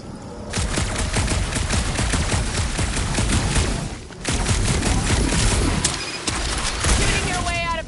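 Sustained rapid gunfire in Marvel's Guardians of the Galaxy, loud dense bursts rolling almost continuously with a brief pause midway, mixed with game effects and a voice speaking over the battle.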